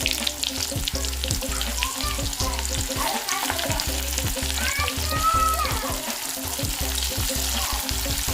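Sliced onions for home-style haleem fry in a pan with a loud, continuous sizzle, punctuated by rapid rhythmic scraping and stirring strokes against the pan.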